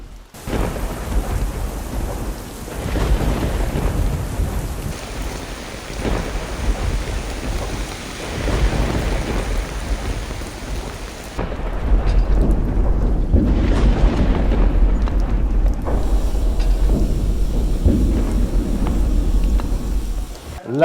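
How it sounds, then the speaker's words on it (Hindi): Thunderstorm with heavy rain pouring through the night, a constant loud downpour with rumbling thunder rolling in close, growing heavier in the second half. "सर रात भर बारिश होती रही है, हर जगह पानी खड़ा है"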